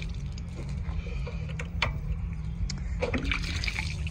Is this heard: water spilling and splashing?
yes